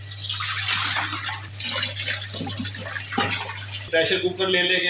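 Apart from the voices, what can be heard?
rinsing liver with clean water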